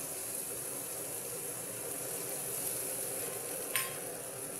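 Water poured into frying mustard paste spiced with salt, turmeric and chili for shahi potol sorso, heard as a steady, loud sizzle throughout with a brief sharp splash near the end.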